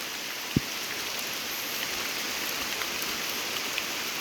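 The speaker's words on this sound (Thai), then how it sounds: "ฝนตกอยู่ตอนนี้" Steady rain falls in a wet outdoor spot while mushrooms are gathered near a stream, with a constant hiss of drops and one sharp tap early on, and no voices.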